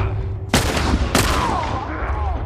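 Two sharp, loud gunshots roughly half a second apart in The Last of Us Remastered, each a sudden broadband crack with a short decaying tail, over a low background hum.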